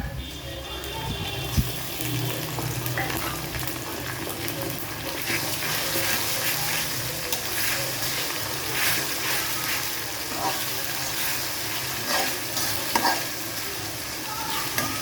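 Garlic, onion and ginger sautéing in hot oil for a duck curry, a continuous sizzle with scraping stirs and occasional clanks throughout, close and moderately loud.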